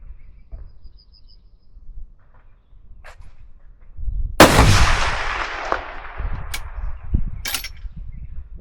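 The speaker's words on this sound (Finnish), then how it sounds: "seuraavaksi Harrin ammuntapätki" Outdoors during recoil testing, a single loud gunshot cracks with a long rolling echo, followed by a couple of fainter sharp reports and quiet shuffling.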